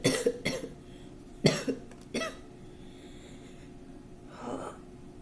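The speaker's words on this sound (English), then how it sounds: "I'm trying to stop myself from coughing" Several harsh, dry coughs in quick bursts, a pause, then another cough and a softer breathy sound near the end, close and fairly loud.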